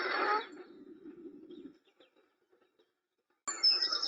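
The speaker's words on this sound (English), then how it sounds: "just this cacophony of bird songs" Birds sing in the English countryside of the Cotswolds, a bright burst of chirping that fades into quiet before another dense flurry of overlapping calls returns.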